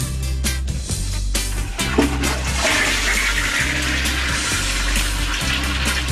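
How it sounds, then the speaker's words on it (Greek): A toilet flushes with a loud, steady rush of water that swirls and drains for several seconds, over a low continuous hum. "Πατά 2 φορές το καζανάκι"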